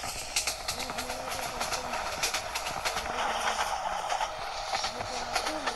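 A passenger train in Train Simulator Bangladesh, the Subarna Express, runs at high speed with a steady rumbling roll, rhythmic clickety-clack and hiss. A voice speaks over it now and then.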